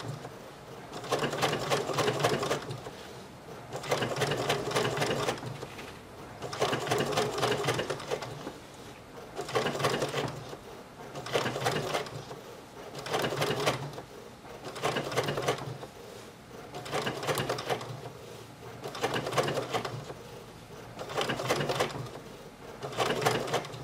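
A sewing machine stitching embroidery along a tightening curve runs in steady, evenly spaced bursts of rapid stitching separated by short pauses, close and clear with no talking.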